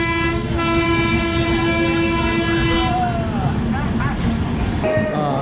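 Chennai–Nizamuddin Duronto Express running through Mathura without stopping: a loud, steady roar of passing coaches with a long sustained horn blast, then a few shorter horn notes as the train rushes by close.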